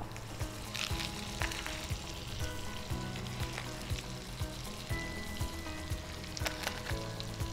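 Butter melts and sizzles in a hot, dry kadai, a dense crackling fry with frequent sharp pops and spits, close and fairly loud, with no talk over it.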